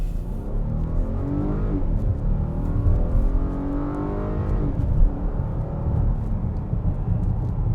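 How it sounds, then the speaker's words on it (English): A 2020 Volkswagen Atlas Cross Sport with a 3.6-liter engine under full-throttle acceleration, heard from inside the cabin; the engine drones and climbs in pitch, drops at each gear change and climbs again, with steady road roar beneath. "All right, so I'm gonna test the acceleration."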